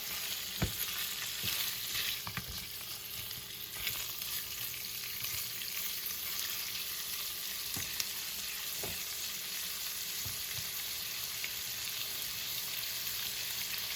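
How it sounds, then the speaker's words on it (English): Sausage browning in a frying pan, a steady close sizzle running throughout with occasional clicks and scrapes of stirring, no voices. "So the sausage is still browning."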